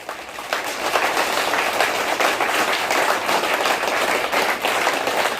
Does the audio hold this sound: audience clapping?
yes